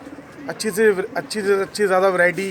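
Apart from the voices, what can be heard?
pigeons cooing, Patiala breed from Punjab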